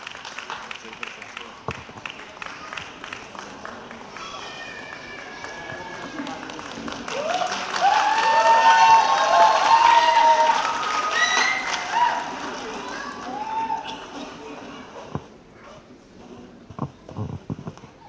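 An audience applauding lucky draw winners at an event, clapping swelling to a loud dense burst midway and fading, with a voice over it.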